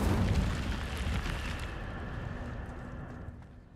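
An Incendio fire spell cast in Hogwarts Legacy bursts loudly at the start, then roars and crackles as it slowly fades over a few seconds.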